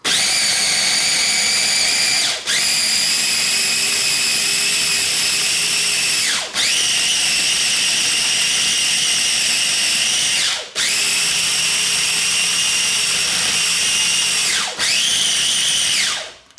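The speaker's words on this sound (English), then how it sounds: "just pulse, go from chop to grind with the food processor" A food processor pulses to grind chicken pesto, running in four steady whirring bursts of a few seconds each, separated by brief stops, loud and close with no talk.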